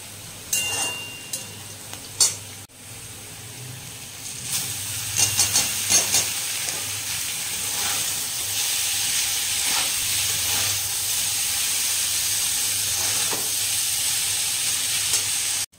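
Vegetables frying with salt and turmeric for a vegetarian chowmein, with a steady hissing sizzle and a few clattering utensil knocks and stirs early on, settling into continuous frying noise.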